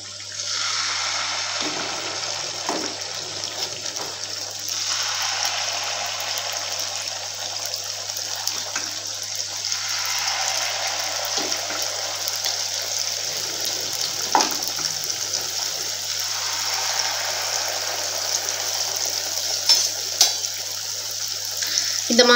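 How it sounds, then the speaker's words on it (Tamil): Wheat flour appam batter fries in hot oil in a kadai over a medium flame, giving a continuous loud bubbling sizzle that swells in waves as each ladle of batter hits the oil. "இப்போ ஸ்டவ் ஆன் பண்ணி ஒரு கடாயில இந்த அப்பத்தை பொரிக்க தேவையான அளவு எண்ணெய் சேர்த்துக்கறலாம்."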